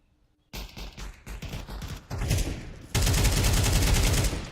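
Bursts of AK-47 gunfire during a competitive video game match, starting as short separate shots and building into sustained, loud automatic fire with overlapping shots near the end.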